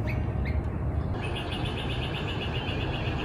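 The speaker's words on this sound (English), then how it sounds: "I saw my first of season Great Crested Flycatcher" Repeated short calls of a great crested flycatcher ring out over a constant low hum, a few at first, then a quicker run of similar notes.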